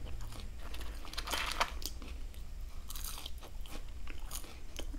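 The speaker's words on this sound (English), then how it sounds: "I get 2 more fries, that's it." Crunchy fries eaten up close, with crisp bites and crackling chews sounding over a steady low background hum, strongest in a short burst early on.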